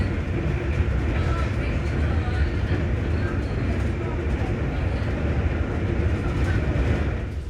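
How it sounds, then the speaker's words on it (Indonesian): Inside a KA Anggrek executive train with stainless-steel carriages, a steady, continuous rumble of wheels on rails fills the whole stretch, with faint voices beneath it. "saya naik kereta api yang sama, yaitu kereta api anggrek"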